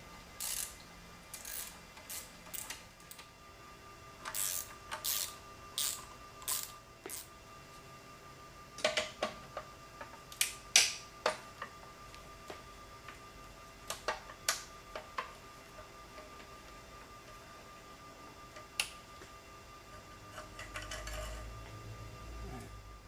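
A ratchet loosens the exhaust bolts on a KTM RC390, making sharp close clicking bursts in short repeated groups with quiet gaps between them, and a low rumble near the end.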